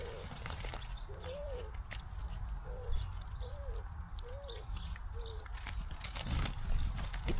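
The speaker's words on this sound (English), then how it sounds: "I think that's the mourning dove." A mourning dove calls in a series of soft, hollow coos, about one per second, heard at moderate distance over a low steady background.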